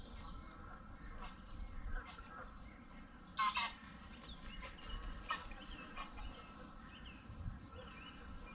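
Mute swans calling on the water during an aggressive display, with brief nasal honks and grunts scattered over a steady outdoor background, one louder call standing out midway.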